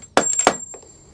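A metal washer drops onto a hard surface in a motorcycle workshop while a Honda CB600 Hornet front yoke is taken apart, giving a couple of bright, ringing clinks and a small bounce, close and short.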